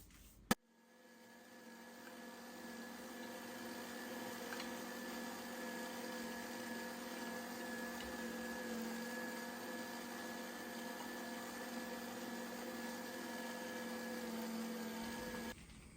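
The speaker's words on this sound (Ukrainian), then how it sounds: "зараз я це все перетру на, за допомогою своєї м'ясорубки" An electric meat grinder runs steadily with a constant motor hum for about fifteen seconds, grinding ingredients for homemade adjika, starting with a sharp click and stopping near the end.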